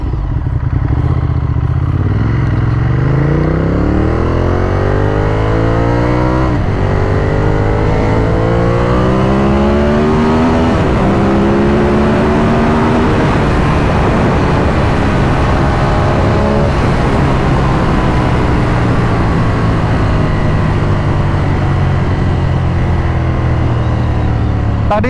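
A 2015 Ducati Monster 1200S motorcycle in sport mode accelerates hard through several rising gear pulls, its loud engine climbing and shifting steadily with heavy wind rush, sustained and close throughout.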